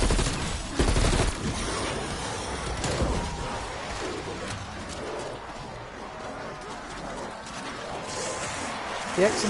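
XM4 assault rifle fire in Call of Duty Cold War crackles in rapid bursts amid ongoing in-game combat noise, fairly dense at the start and thinning later, with a voice talking over it.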